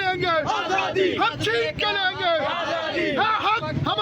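A huge crowd marches toward Adiala jail, chanting slogans with energy, rhythmic massed voices rising and falling close by over a dense wash of shouting.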